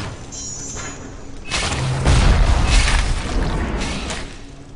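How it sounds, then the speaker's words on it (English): A rocket launcher blast in BioShock: a heavy booming explosion builds and rolls for a few seconds, loud and close, with thudding low rumble and debris-like crashes, no talk over it. "Was that a rocket launcher?"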